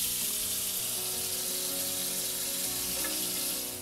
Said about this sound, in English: So all we have to do is just turn the tap on. We're going to turn on to a warm and we're just going to flush it all out.